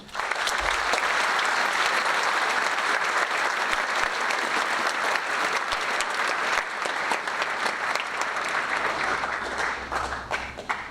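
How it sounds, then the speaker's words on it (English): School audience at a matric valedictory service giving the leadership group a round of applause, dense and sustained clapping filling the room loudly and evenly before easing slightly near the end. "I'd like to give our leadership group a special round of applause"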